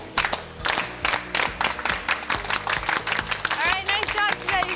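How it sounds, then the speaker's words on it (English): After women's soccer practice, the Huskies team gives a slow clap: sharp, evenly spaced handclaps ring out at close range while players talk over the rhythm. "Slow clap for today."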